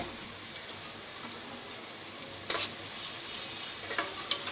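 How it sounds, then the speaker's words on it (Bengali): Onions sizzle in a pan with salt for a chicken biryani, a steady soft frying hiss broken by a few quick stirring clicks and scrapes near the middle and end. "লবণ দিয়ে দিচ্ছি তাতে করে পেঁয়াজটা তাড়াতাড়ি ভাজা ভাজা হয়ে যাবে"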